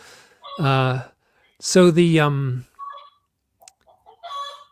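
Chickens and a rooster kept at a house, with a loud, drawn-out crow-like call in two long bursts near the start, followed by fainter, scattered clucks and chirps.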